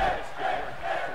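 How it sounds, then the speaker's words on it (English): A wrestling arena crowd in WWE 2K18 roars and cheers during a match, a broad swelling wall of voices rising and falling in waves, fairly loud with no clear talk over it. "Can hear this crowd wanting Finn Balor to maybe get the win here"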